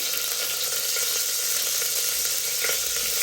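Shahi jeera and biryani leaves crackle in hot ghee, a dense continuous close-up sizzle with a faint stir near the end and no voices.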